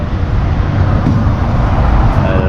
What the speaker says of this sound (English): And here comes another bus.